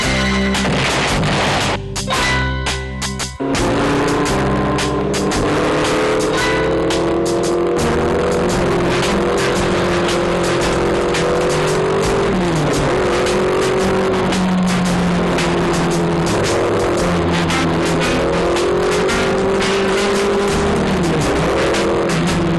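A modified high-tech car engine runs loudly and continuously, with a rough idle broken by a few sharp pops early on, then a steady droning rumble whose pitch rises and falls slightly as it revs.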